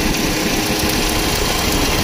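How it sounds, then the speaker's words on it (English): Steady, loud exhaust rumble from a running 2015 Chevrolet Equinox with a 2.4L engine and a suspected secondary air pump fault, droning close and continuous without talk. "you can hear the exhaust difference. Like, that one's loud."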